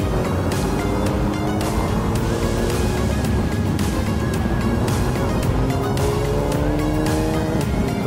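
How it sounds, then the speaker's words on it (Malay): Fast cars racing along the MRR2 highway in Malaysia during a crowded pre-dawn Ramadan sahur ride gathering. A loud, continuous engine roar with rising and falling engine tones runs throughout, and no voices stand out. "Oh, geng-geng kereta ni bukan main laju dia."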